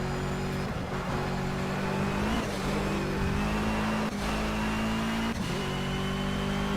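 Car engine droning steadily while driving on a track in Project CARS, a loud sustained hum holding nearly constant pitch with slight dips at gear changes, no talking.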